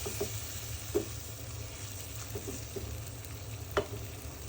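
Potato pieces stir-fried in a spice masala for Bengali egg and potato curry, a steady low sizzle broken by several soft scraping stirs of the spoon, close and fairly quiet with no voices.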